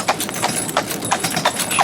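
Hooves of Jezebel, a horse pulling for horse-drawn promotions, clip-clop in a brisk, even trotting rhythm on a hard surface, crisp and fairly close, with a faint voice briefly in the background.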